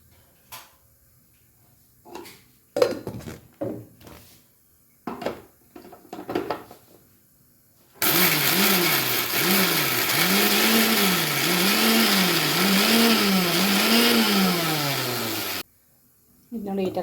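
A mixer grinder whirs loudly at steady speed while grinding roasted okra chutney into paste, with a wavering, pulsing motor tone for about eight seconds, cut off abruptly, after scattered clinks and handling knocks.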